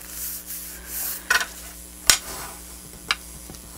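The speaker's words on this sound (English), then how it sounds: "the glass mat does have a bit of a clang to it." Craft supplies clang against a glass craft mat as a few sharp, isolated clinks and knocks spaced about a second apart. Softer rubbing and shuffling sounds fill the gaps, all close by.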